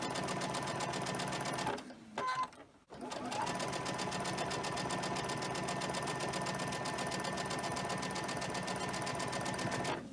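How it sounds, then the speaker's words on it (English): Sewing machine chain stitching pinned quilt pieces at a quarter-inch seam, a steady close mechanical whir with a rapid needle rhythm, broken by one short pause before resuming. "all I'm doing is just sewing them, chain stitching them, 1/4 inch just like the rest, taking my time"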